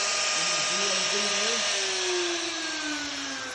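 A CNC router spindle whines at high pitch as its bit is lowered to touch off on a wood workpiece, a steady loud tone that slowly dips in pitch while someone talks over it.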